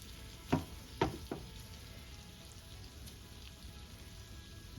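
Eggs sizzle steadily in a hot pan as they are mixed for a frittata, with a few sharp clatters near the start and then an even, quiet crackle with no talking.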